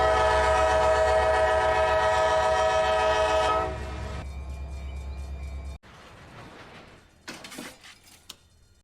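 A train with a caboose backs up in the Run8 Train Simulator game on the CSX A-Line, opening with a loud sustained horn blast over a rumbling engine, then quieter rolling noise and a few clanks.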